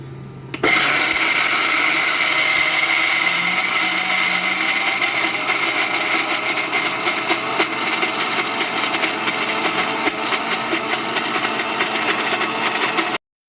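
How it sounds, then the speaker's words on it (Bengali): Electric blender whirring as it blends food for fritters, starting abruptly and running as a loud, steady motor drone with a gritty, rattling texture for the rest of the clip. "এটা আমি এখন ব্লেন্ডারে ব্লেন্ড করে নেব।"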